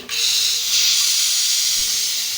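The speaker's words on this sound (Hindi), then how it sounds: "प्रेशर कुकर से गैस बिल्कुल अच्छी तरीके से निकल गया" A loud, sharp hiss of steam venting from a pressure cooker cooking beef karahi, starting abruptly and holding steady for a couple of seconds.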